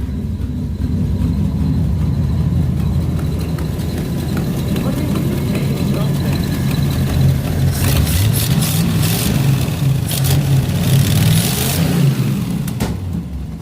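A Ford 390 FE V8 idles with a rough, low rumble, then revs up in a few rising bursts, close and loud, with people talking over it.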